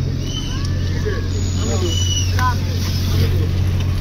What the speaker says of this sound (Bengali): খুব স্পিড বোট আসছে এবং আমাদেরকে সাইড দিয়ে চলে গেল স্পিড বোট